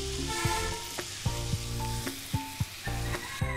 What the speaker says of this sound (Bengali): আলতো আলতো করে অল্প পরিমাণে নাড়াচাড়া করে নেবো